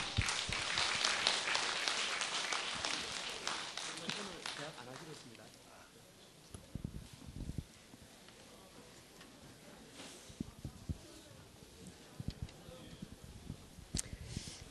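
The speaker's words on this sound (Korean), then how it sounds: "처음이니까 박수합시다. 우리 박수." Congregation applause at a church forum for a pastor coming up, a dense burst that fades after about five seconds into scattered claps, footsteps and soft talk in a quiet hall.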